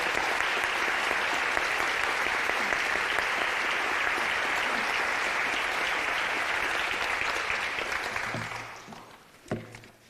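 Sustained audience applause at a community book event finale, dense and steady for about eight seconds before fading out, with a few stray claps and a brief voice at the end.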